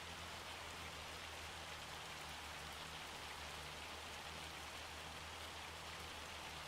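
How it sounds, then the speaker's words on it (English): In-game hail in Farming Simulator 25 patters down as a faint, continuous hiss of small impacts, even and unbroken, with a low steady hum beneath. "this is pretty frigging severe hail as well"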